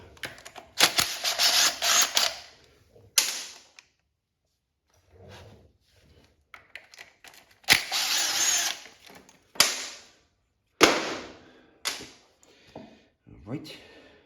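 A power tool removes the sprocket cover on a 1985 Honda XL600R motorcycle, sounding in several short loud whirring bursts separated by quiet gaps, close by, with brief clanks and handling noises between them.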